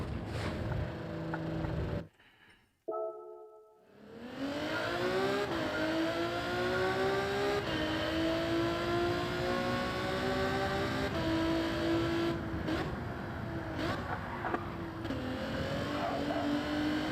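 A Mazda Miata race car in Gran Turismo 7 revs and accelerates, its engine note climbing and holding through gear shifts after a brief drop-out, loud and close with no voices.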